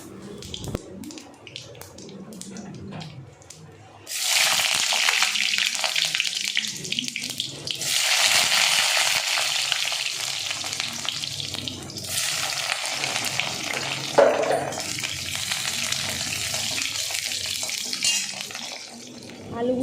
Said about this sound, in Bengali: জিরে তেজপাতা ফোড়ন দিয়ে আমি তরকারিটা একবার বসিয়ে দেবো জিরেটা ভালো করে একটু পুড়বে তেজপাতাটাও একটু পুড়বে তারপরে আমি আলুগুলো ছেড়ে দিয়ে ভেজে নেবো